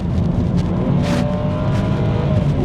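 Naturally aspirated BMW 6 Series engine running steady and loud near a close microphone, a continuous low roar with rising engine tones and a brief harsher burst midway, no talking.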